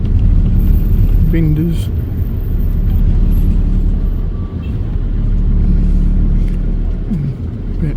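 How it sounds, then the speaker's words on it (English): Slow road traffic in a West African city between Bonkro and Accra makes a steady low rumble of idling and creeping vehicles, while someone talks over it. "Back with all the slow traffic"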